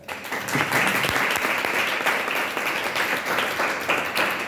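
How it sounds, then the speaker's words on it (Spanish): An audience at a book presentation claps for a speaker, Ana Clara, in a full, lively round of applause that stays steady and close from start to finish, with no talking. "Fuerte aplauso para Ana Clara."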